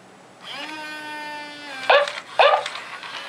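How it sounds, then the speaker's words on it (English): Dog barking on command, a drawn-out whining tone followed by two sharp, loud barks close by, with no talking over them. "He's a good dog."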